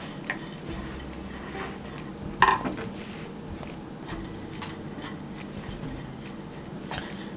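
A spoon stirs coconut in a pan on the stove while it browns, giving a continuous soft scraping rustle with one sharp metallic clink partway through.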